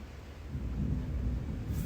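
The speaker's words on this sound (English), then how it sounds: "You heard the thunder?" Thunder rolls as a deep, steady rumble that holds for a couple of seconds, heard alone with no voices.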